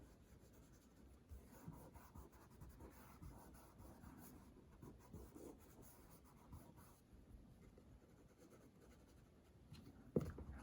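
Pencil shading on paper while drawing a male face in profile: a soft, steady scratchy rubbing of graphite strokes, close and quiet, continuing for several seconds with a brief louder scrape near the end.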